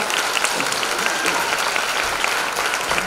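An audience at a music association event applauds the head judge, a dense, continuous wash of clapping that holds steady and fairly loud for about three seconds.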